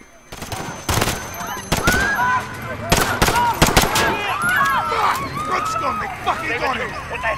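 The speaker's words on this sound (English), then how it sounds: "Shots fired" Gunfire in the 2019 Call of Duty Modern Warfare on PC, with sharp single shots and short bursts cracking over a chaotic street scene full of shouting and crowd noise.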